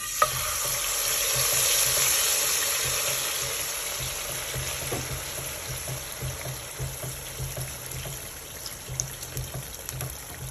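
Mokary batter sizzling and frying in hot butter over a flame, a steady bright crackle throughout with faint stirring and scraping, close and fairly loud.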